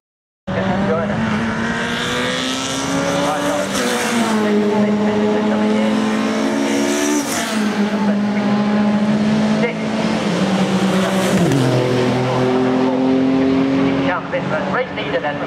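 Saloon and sports race cars at Oulton Park circuit during a 2011 race, engines loud and close, revving up and down through gear changes as cars pass one after another, with a commentator talking over them throughout.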